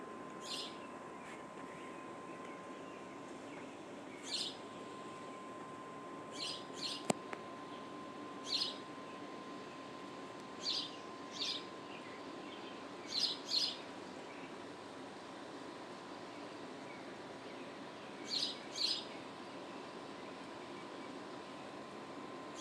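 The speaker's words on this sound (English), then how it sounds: "Lots of birds." Birds chirping outdoors on a wet morning, a dozen or so short distant calls scattered irregularly over a steady faint background hiss, quiet, no talking.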